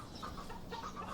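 A large production-type chicken clucks softly and steadily at close range, with low farmyard rumble underneath and no talking.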